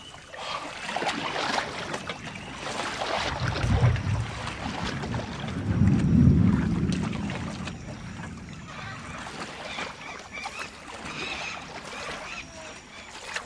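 A heavily loaded canoe carrying over a ton of cargo moving along an Amazon river, with low water rumbles and steady wind buffeting the microphone; no voices.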